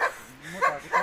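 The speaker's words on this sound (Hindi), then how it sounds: "ये देखिए गद्दी कुत्ते, ये आगे वाली कुत्ती है" A Gaddi sheepdog, the mountain herding breed, lets out three quick barks about half a second apart, close and fairly loud against a quiet background.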